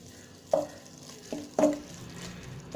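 Thick chicken curry being stirred in an open pan, with a few distinct scraping knocks of the spoon over a quiet background.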